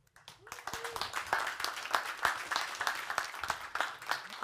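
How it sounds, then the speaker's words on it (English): An audience at a corporate capital markets day applauds, a dense patter of claps building quickly and holding steady at moderate loudness, with a few voices mixed in. "I want us to give a warm applause to Fabian Forster,"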